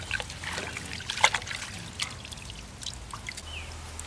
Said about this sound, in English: I think I'm gonna wash off the dirt so I can get a better look at the roots.